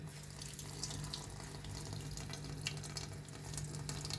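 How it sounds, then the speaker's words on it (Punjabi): Water wrung from grated pumpkin through a cloth, during preparation of pumpkin kheer, runs as a steady, close trickling stream for the whole stretch without pause. "ਹੁਣ ਆਪਾਂ ਇਹਦਾ ਨਾ ਪਾਣੀ ਕੱਢਾਂਗੇ ਦੇਖੋ ਕਿੰਨਾ ਪਾਣੀ ਨਿਕਲਦਾ ਹੈ"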